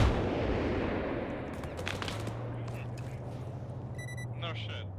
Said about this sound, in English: I'm seeing missiles launch.